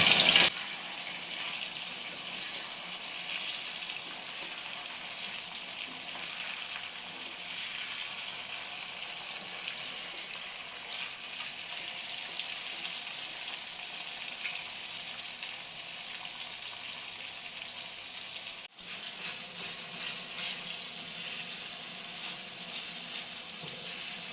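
Four large tomatoes, with onion and garlic, sautéing in a pan for a home-cooked kuzhambu: a steady, even sizzle that holds unbroken for the whole stretch, with no voices over it.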